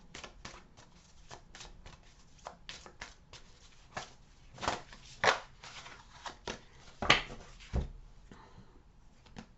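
Tarot cards are shuffled by hand, a quiet close series of irregular riffling slaps and soft flicks with a few louder snaps.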